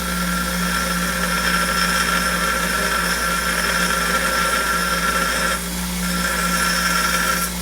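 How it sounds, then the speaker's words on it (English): Bench grinder finishing a metal part for a 1946 Maytag 72D engine, a loud steady whine with a constant hum and an even grinding rasp throughout, dipping briefly near the end, no talking. "I'll finish it up in the grinder."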